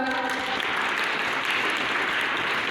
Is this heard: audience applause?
yes